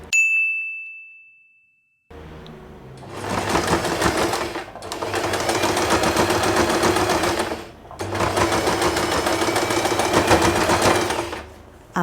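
A sewing machine stitches the center of a fabric hair bow. A bright ding rings out first, then after a short pause the machine runs in steady, loud bursts, stopping briefly twice between runs.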